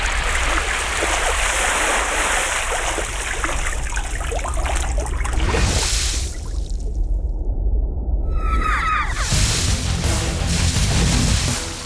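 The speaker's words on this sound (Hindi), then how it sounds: "पानी मार इसके मुंह पे।" Water splashes onto a man's face in a broad, loud wash that drops to a brief quiet gap and then surges back as a heavy splash.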